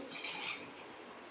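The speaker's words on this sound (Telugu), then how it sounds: "సరిపడే వాటర్ వేసుకోవాలి" Water splashes into Ugadi pachadi being mixed with tamarind juice, neem flowers, raw mango pieces, coconut and jaggery: a brief, steady pouring hiss, close and moderately loud.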